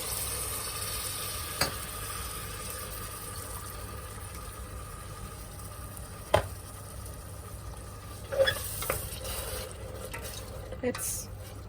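Masalas fry in a pan for a Marathi methi kapnya dish, giving a faint, steady low sizzle with occasional spoon clinks and stirring knocks, and no voice over it.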